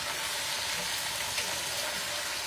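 Tomatoes sizzling and frying in a pan for a creamy tortellini dish with chicken and sausage, giving a steady, even crackle of hiss with no talk over it.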